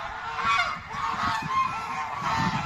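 A flock of geese honking continuously nearby, overlapping calls in a noisy, steady chorus.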